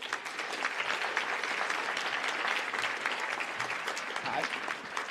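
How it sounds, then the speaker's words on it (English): Steady applause from an audience at a senior awards ceremony as a recipient is called up, a dense, even clatter of many hands throughout with faint voices underneath. "please a nice round of applause for each as we call them up"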